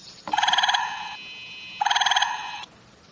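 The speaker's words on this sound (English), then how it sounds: "The gray tree frog is this loud vibration sound." A gray tree frog gives two loud trilling calls, each a fast, pulsing, buzzy vibration lasting about a second, separated by a brief pause.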